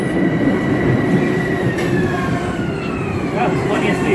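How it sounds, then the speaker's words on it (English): A Metro-North Hudson Line train pulls into Croton-Harmon station at night, a loud, close rumble of rolling cars with faint squealing wheels and brief tones, while people talk nearby. "And here comes the train."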